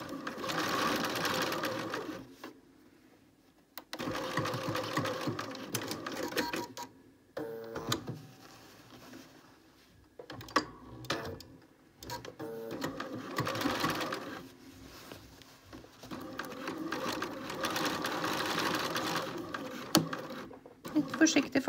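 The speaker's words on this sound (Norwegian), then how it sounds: "Da syr jeg bare i sømmen." Sewing machine stitching a seam on suit trousers, close rapid mechanical chatter in several runs broken by short pauses, with a person talking quietly between and over the stitching.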